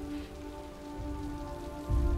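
Steady rain falling in Detroit: Become Human, a continuous patter on surfaces over a low hum, growing heavier and louder toward the end, with no voices.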